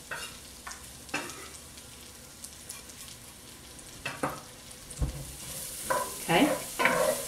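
Onions and potatoes frying in a pan, a low sizzle under intermittent spatula scrapes and taps, with the sizzle swelling louder as stirring picks up toward the end.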